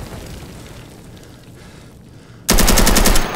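Rapid automatic gunfire in a tactical shooter game erupts after a stretch of low rumbling background, a loud, dense burst of fast shots near the listener lasting about a second.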